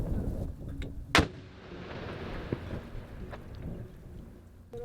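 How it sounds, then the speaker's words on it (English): A controlled detonation of an explosive device by an explosives expert gives one sharp, loud blast that rumbles away into a lingering low roar, heard from a distance with no talk. "An explosives expert is called in to safely detonate the device."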